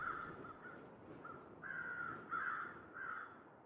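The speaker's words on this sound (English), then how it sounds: "Crows are back." Crows caw repeatedly at a moderate distance in the video game The Long Dark, a series of harsh calls in short bursts over a faint, quiet background.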